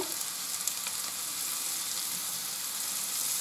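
Asparagus and chicken fry in a pan seasoned with salt, pepper and red paprika, giving a steady, even sizzle that carries on alone without pause.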